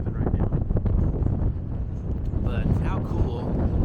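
Strong wind sweeps across open plains at the site of a huge radio telescope, a steady low roaring buffet against the microphone that stays loud and continuous throughout.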